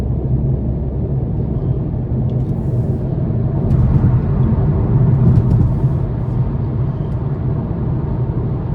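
Inside a 2022 Volkswagen Passat SE with a 174 hp turbocharged four-cylinder, a steady low road and engine rumble fills the cabin while driving, swelling slightly midway, with faint small rattles and no talking.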